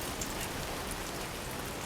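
Steady rain in the video game Death Stranding 2, a dense even hiss of falling drops on surfaces that holds at constant level throughout with no talk over it.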